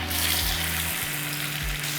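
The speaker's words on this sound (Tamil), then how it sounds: "எப்போவுமே இந்த மாதிரி மீன் வறுக்கிறதா இருந்தால்" Fish fries in hot oil at medium heat, giving a loud, steady sizzle and crackle with low hum tones from the kitchen beneath it, without talk.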